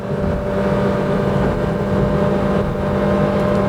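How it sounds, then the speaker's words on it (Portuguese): A steady, loud engine drone from a 2021 Honda WR-V with a continuously variable transmission holds at a constant high pitch while accelerating toward 120 km/h, droning on without gear shifts, with faint wind noise in the background. "o câmbio continuamente variável sobe o giro e mantém ele alto"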